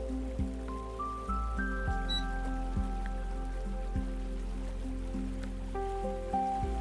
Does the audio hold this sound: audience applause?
no